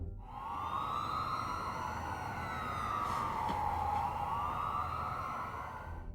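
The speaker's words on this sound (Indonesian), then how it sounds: "tiba-tiba terdengar suara sirine dari kejauhan" A fire engine siren wails from a distance, its rising and falling tone sweeping slowly and steadily over several seconds at a faint, far-off level with no talking.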